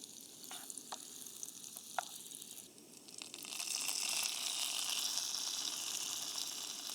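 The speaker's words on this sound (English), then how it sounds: "Everything's just sizzling a little bit." Food frying in a pan over a campfire in a forest, with lentils (dal) cooking nearby: a steady close sizzle that swells louder partway through, with a few sharp clicks early on and no voices.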